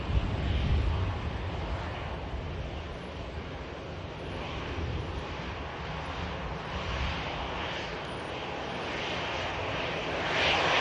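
An EasyJet airliner arriving at Manchester Airport, its jet engines giving a steady, broad roar from a distance that swells slightly near the end, with no talk over it.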